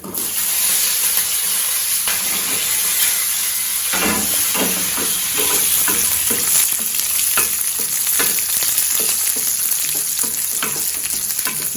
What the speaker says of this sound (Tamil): இதை வந்து ஒரு வறுவறுத்துடலாம்